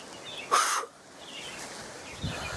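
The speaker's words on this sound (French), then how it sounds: "Vous entendez, les oiseaux, ils sont toujours en train de souffler, siffler." A single loud crow-like caw rings out briefly in a forest, followed by quiet outdoor ambience and a faint low thump near the end.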